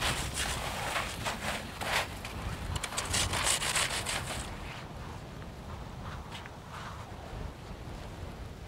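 Snow blocks for a snow hole are scraped and cut, producing dense crunching, rasping strokes that are loudest early on and then ease into a quieter steady scrape, with no voices.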